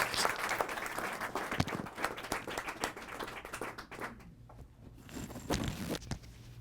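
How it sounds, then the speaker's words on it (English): Applause from members at an electric vehicle association general meeting, a dense round of clapping that thins out and tapers off toward the end, with a brief renewed burst near the close. "Can we have a round of applause for..."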